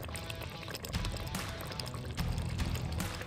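A spoonful of ghee poured into mutton curry, a soft liquid trickle and sizzle over a steady cooking hiss, close and moderately quiet.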